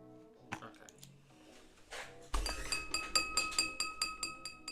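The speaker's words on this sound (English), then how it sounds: "2 glasses of water that I have put away." Drinking glasses clink together as they are put away in the horror game That's Not My Neighbour, a run of bright, evenly spaced glassy chinks after a few softer knocks and clatters.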